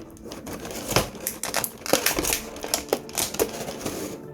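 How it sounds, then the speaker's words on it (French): Packaging around a Chucky figurine is crinkled and torn open close by, with sharp irregular crackles and rustles. "nous allons déballer tout ça"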